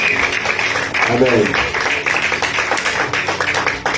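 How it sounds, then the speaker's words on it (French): A church congregation claps steadily for the Lord, with loud, fairly regular hand claps under a speaking voice throughout. "Alors applaudissons le Seigneur encore bien fort"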